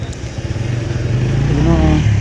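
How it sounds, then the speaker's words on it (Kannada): A vehicle, most likely a bus, approaches at Kudligi bus stand, its engine rumbling and rising in level over a couple of seconds as a voice speaks over it. "ಮತ್ತೊಂದು ಗಾಡಿ ಮುಂದೆ ಬರ್ತಾ ಇದೆ"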